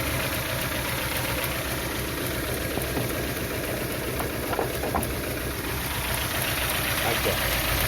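A car engine idles with an abnormal knocking rattle from the accessory belt, loud and steady throughout with small irregular ticks and bursts of louder revving, and someone talks over it.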